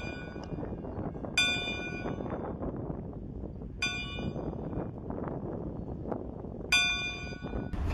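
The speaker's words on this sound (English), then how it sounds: "ring the locomotive's bell" A Chicago, Burlington and Quincy locomotive bell at the Galesburg railroad museum in Illinois rings three times at regular intervals, each strike bright and ringing over a steady background rumble.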